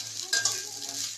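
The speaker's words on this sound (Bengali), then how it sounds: "এবার সবজিগুলোকে ভালো করে ভেজে নেব।" Raw vegetables fry in hot spiced oil for a vegetable dal while a utensil stirs them, producing a soft continuous sizzle with a couple of brief scraping stirs near the start.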